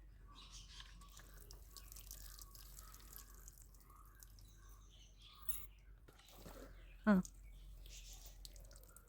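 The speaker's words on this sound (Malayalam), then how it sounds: "നമുക്ക് മൺകൂനയിലേക്ക് വെള്ളം ഒഴിക്കാം." Water poured onto a small mound of soil for a simple rain experiment gives faint, scattered drips and trickles. A brief louder splash stands out, and soft voices are heard in the background.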